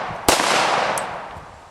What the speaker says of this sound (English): I'm firing one, then firing another.